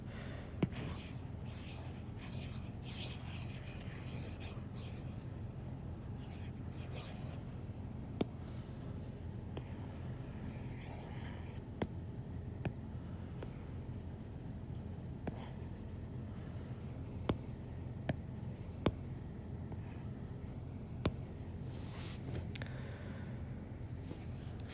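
Marker or eraser rubbing against a whiteboard in a classroom setting during a chemistry lesson, a steady scratchy swishing that continues throughout with a few brief sharp taps, fairly faint, no voices present.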